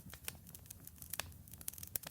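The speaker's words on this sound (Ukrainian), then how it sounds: "Чути, як палає вогнище." A campfire sound effect in a 2D Unity game, continuous fire crackling with irregular sharp pops and snaps over a soft, steady rustling bed, fairly quiet and close.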